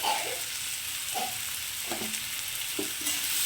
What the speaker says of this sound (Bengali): তো আলুটাকে এখন আমি একটু লাল লাল করে ভেজে নেব